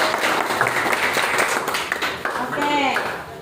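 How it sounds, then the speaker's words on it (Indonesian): Applause for the first student group after their classroom presentation at a high school in Sentani, Jayapura, Papua: a steady wash of clapping from the class that lasts the whole moment, with voices mixed in. "kasih aplaus untuk kelompok 1"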